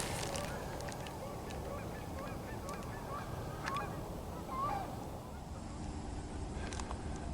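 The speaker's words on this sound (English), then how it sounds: "A few geese out this way." Geese honk in short, distant calls by a frozen-over lake, mixed with steady wind rumble and no talk.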